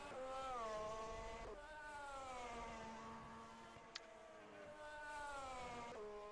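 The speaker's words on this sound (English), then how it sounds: "Marcin Rybachuk is trying to start the car in the middle of the track" A race car engine drones in a racing video game at the Singapore Grand Prix, a faint sustained tonal whine that slowly rises and falls with gear shifts, with no talk over it.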